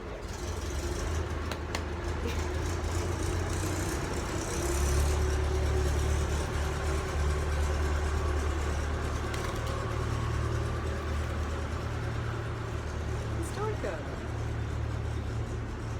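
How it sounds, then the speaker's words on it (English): A truck passes by outdoors, its low engine rumble rising and holding steady close by before easing off, with faint background noise and brief voices under it. "We'll wait for that truck to pass."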